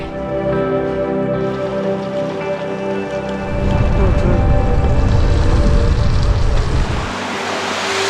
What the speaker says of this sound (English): Got a little bit of surprise rain today.